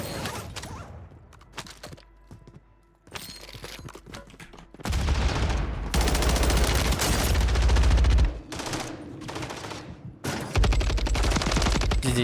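Dense bursts of rapid automatic gunfire from Warzone 3, loud and continuous in long volleys with brief pauses, sounding like synthetic game combat.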